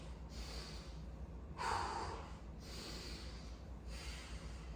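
Deep breathing during a warm-up stretch in a home workout, with slow, close, quiet breaths through the nose in a regular rhythm, one stronger exhale in the middle, and no talking.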